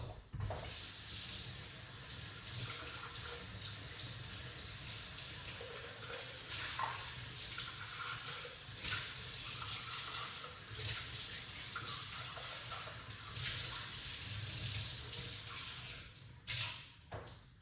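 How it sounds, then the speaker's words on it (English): Pomegranate and pineapple juice poured out in a steady, continuous liquid stream, close and fairly quiet, ending with a few brief splashes. "let's pour it out"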